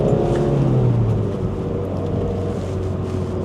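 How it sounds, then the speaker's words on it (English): A car engine holds a steady low drone in second gear during a heel-and-toe, rev-matched downshift, with a brief pitch rise and fall early on, loud and continuous with wind noise. "See, Rev-match and heel and toe."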